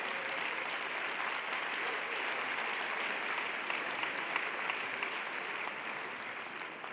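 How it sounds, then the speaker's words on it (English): An education conference audience breaks into applause, a steady, dense wash of clapping at moderate distance that fills the whole stretch without pause. "I think we should clap because that's an incredible achievement"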